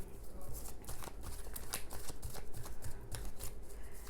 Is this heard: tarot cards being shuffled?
yes